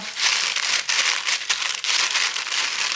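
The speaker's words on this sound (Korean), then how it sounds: "기름 종이를 깔고" Parchment paper laid down on a cutting board while making a sweet-potato nut candy, a close, crisp crinkling and rustling that runs continuously with small uneven bursts.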